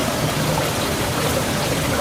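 Rushing water at Esbol Falls waterfall after a typhoon, a dense, constant roar of falling and churning water filling the whole moment with no voices.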